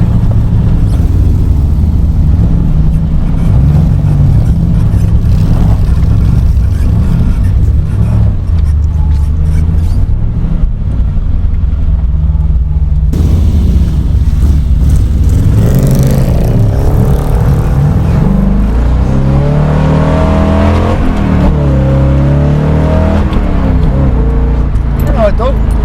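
A 1967 Corvette engine with a Tremec TKX gearbox rumbles at idle, then revs and accelerates loudly, its note rising and falling through several throttle blips while people talk over it.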